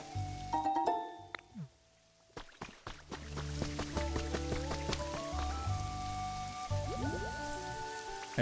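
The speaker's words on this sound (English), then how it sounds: "Oh, it's raining here now." Steady patter of rain with scattered drips in the video game Pokémon Pokopia, mixed with game sound effects and tonal chimes, moderately loud and continuous.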